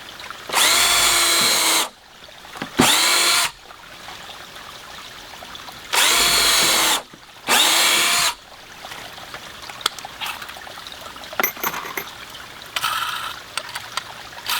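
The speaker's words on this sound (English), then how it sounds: "Now we can take our drill and put our bottom screws in here" A power drill drives screws into a wooden flume in four loud, close bursts of a second or two each, separated by quieter handling clatter and small knocks.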